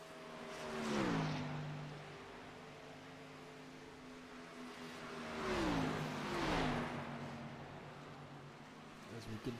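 Stock car engines hum steadily around a banked speedway in a racing video game, with cars swelling past in a couple of louder whooshes with falling pitch, heard faintly under a quiet background.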